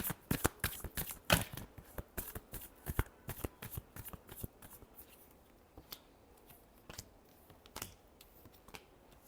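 Tarot cards shuffled up close in quick riffling bursts, with sharp snapping pulses that grow sparser toward the end and no voices.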